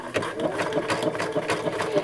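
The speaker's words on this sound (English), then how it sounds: "I'm going to lower it down and then begin sewing." A sewing machine runs a satin stitch through fabric with a steady, fast mechanical whir and rhythmic needle ticking, close up and continuous.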